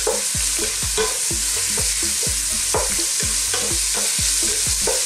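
Liver sautéed and stirred in a pan for a Filipino hototay soup, with a steady loud sizzle and a regular rhythm of utensil scrapes and taps against the pan running throughout.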